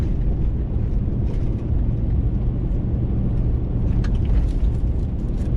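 A single vehicle rolls along a quiet backroad on the way to a campground near Morgan Falls, its low steady rumble holding at an even level throughout with no voices.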